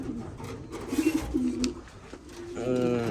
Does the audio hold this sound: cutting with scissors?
no